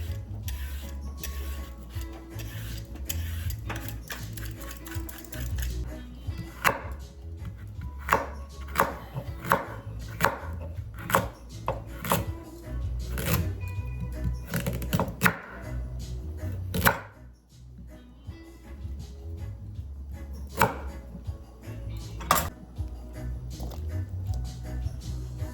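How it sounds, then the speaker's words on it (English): Peeler scraping a carrot in a home kitchen, a run of short rasping strokes in an uneven rhythm with a few louder knocks, close and clear, no talking. "I'm going to go ahead and peel my carrot"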